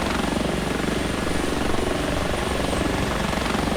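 An H145 helicopter in the X-Plane 11 flight simulator, a loud, constant rotor and turbine drone with a fast, even blade thump that fills the whole stretch without pause.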